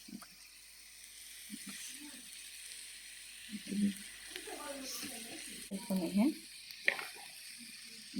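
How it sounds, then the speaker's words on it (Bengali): Red amaranth greens frying in a small pan in a mini kitchen, a quiet steady sizzle with intermittent stirring scrapes and clinks, partly under speech. "এখানে এই শাকটা ভাজা হয়ে যাচ্ছে না, এই যে শাক।"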